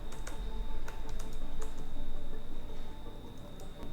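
Someone types a terminal command on a computer keyboard while updating Kali Linux, a quick run of crisp key clicks with short pauses over a steady background hum.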